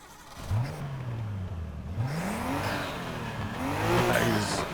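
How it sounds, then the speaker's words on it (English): A Nissan R32 engine in the racing video game Need for Speed Heat revs repeatedly, the pitch climbing and falling in several loud blips and rising sweeps, close and continuous with no talk. "Let's rev the engine."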